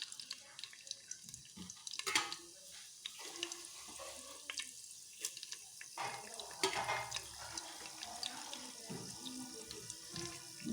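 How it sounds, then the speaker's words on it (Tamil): Cumin and black pepper frying in a pan for Ven Pongal tempering: faint, irregular crackles and sputters that keep popping throughout, close by and with no talk. "மிளகும் ஜீரகமும் நல்லா பொரிஞ்சு வரட்டும்."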